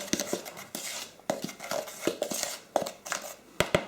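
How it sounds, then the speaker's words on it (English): A utensil stirs salt and pepper into an omelette mixture in a bowl, giving a string of sharp clinks and scrapes at an irregular rhythm, close and fairly clear. "And then give that a stir."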